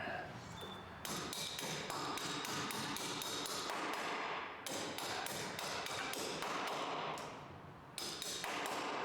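Rapid bursts of metallic hammer strikes on a 1948 Chevy Business Coupe ring out close by, in several clusters separated by short pauses, over a noisy background.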